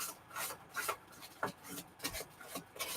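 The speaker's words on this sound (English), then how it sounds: "You can just sand it down, and it's already straight." Paper edges being sanded down for a Christmas junk journal, a quiet, close rhythmic rasping, with short scrubbing strokes repeating roughly every half second.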